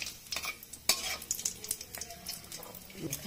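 Food fries in a pan with a soft sizzle, broken by scraping stirs and light clinks of a utensil against the pan.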